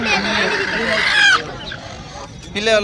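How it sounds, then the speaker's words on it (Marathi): Free-range village chickens and chicks cluck and squawk nearby in a busy, overlapping chatter at an animal market in Ahmedpur, India, with people talking over the birds. "ते ही पिल्लूच आहे का कोंबडी आहे ही"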